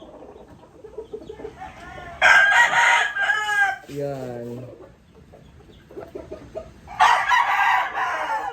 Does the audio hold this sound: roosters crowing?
yes